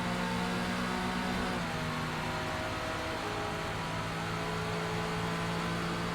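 A Ford GT race car in a racing video game drones steadily at high revs while slipstreaming down a back straight, its engine tone even and continuous with a slight shift partway through.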